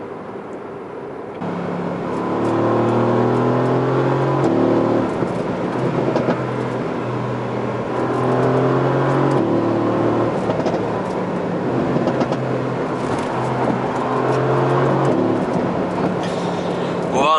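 Twin-turbo 4.0-litre V8 of a 2017 Mercedes-AMG GT C Roadster pulling under throttle, a deep steady engine drone that rises in pitch through the gears, heard up close with a voice talking over it.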